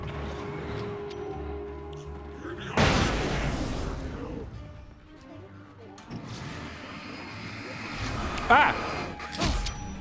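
Flashbang grenade exploding in the Alan Wake video game, a sharp loud bang with a ringing, hissing tail, followed by later crashes; a voice shouts out briefly.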